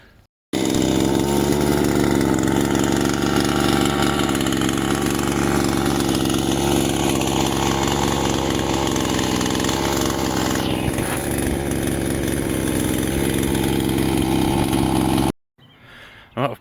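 A petrol chainsaw revs loudly and continuously while cutting trees, a close buzzing whine with slight pitch swings, starting and stopping sharply at the ends.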